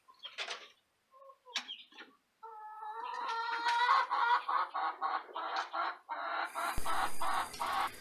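Chickens cluck repeatedly in a steady run of short calls, fairly close, with a few scattered clucks before the sequence picks up.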